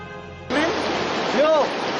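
Flooded Rangun river in Dadeldhura, Nepal, a loud, close, steady rush of churning water with a voice briefly audible over it.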